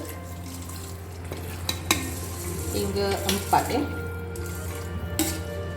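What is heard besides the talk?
water poured into pot of rice for nasi lemak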